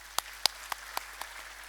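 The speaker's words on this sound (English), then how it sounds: "Please join me just to applaud" At a university ceremony honoring a veterinary parasitology professor, a few sparse, quiet claps land in a slow, regular rhythm, roughly four per second apart, in an otherwise quiet room.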